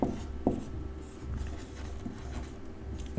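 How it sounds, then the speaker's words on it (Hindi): Pen or pencil writing on paper while a math problem is worked out, soft scratchy strokes with a sharp tap near the start, close and quiet, no voices. "यहाँ हम लोग लिखेंगे"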